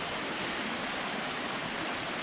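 Water rushing through a stream in Chefchaouen, Morocco, a close, steady, full-bodied wash of flowing water with no voices.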